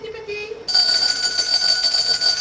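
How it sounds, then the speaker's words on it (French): A doorbell rings with a sustained, bright metallic tone that starts abruptly and holds steadily to the end, fairly loud and close, preceded by a short moment of voice. "Il grince. Je reconnais ça à la sonnette."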